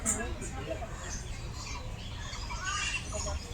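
Birds squawk and chirp in short bursts at Alipur Zoo in Kolkata, fairly close, over a murmur of background voices.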